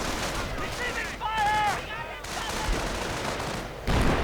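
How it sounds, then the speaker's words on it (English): Artillery barrage and rattling gunfire in a World War II strategy video game, with bursts of shots and distant thuds under a fast-talking commentator voice, plus a short whistling tone partway through. "And another sector artillery lands down, killing 2 riflemen immediately, snuffing out their lives."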